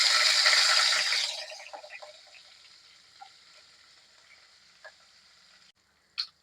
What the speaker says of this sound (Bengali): তো আদা আর রসুনটাকে একটু গোল্ডেন ব্রাউন করে ভেজে নেব।